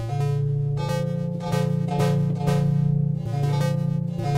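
Repeated strums of a major chord in 15-tone equal temperament, its slightly odd, out-of-tune intervals sounding in a steady rhythm of sustained attacks, clear and close with nothing else heard.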